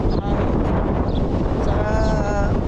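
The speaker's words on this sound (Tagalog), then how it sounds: "maririnig nyo yung hangin" Strong wind blows outdoors in hot weather, buffeting loudly as a low rumbling roar, with a voice speaking faintly beneath it.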